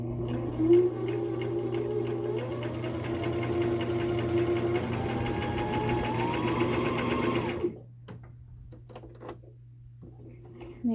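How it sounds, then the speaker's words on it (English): A sewing machine stitching a clean finish seam, a steady fast whir and needle rattle running for several seconds close by, then stopping abruptly to leave a low hum. "And we sew all the way down, trying to keep the center stitches aligned the whole time."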